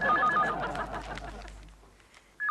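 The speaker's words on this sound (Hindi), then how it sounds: "प्रेमा जी का फोन देखती हूँ।" A telephone rings loudly at the start, its repeating electronic tone running under room noise before fading, then a short burst returns right at the end.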